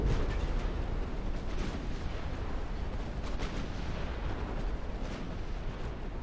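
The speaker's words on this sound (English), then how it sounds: "we're going to watch Suprema get nailed by a torpedo" A torpedo strikes a warship in the naval battle game Ultimate Admiral: Dreadnoughts, set in a dense rumbling wash of distant artillery booms and explosions that runs continuously, with no single blast standing out.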